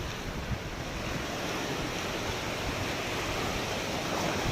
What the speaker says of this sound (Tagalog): yung alon dito talagang malupit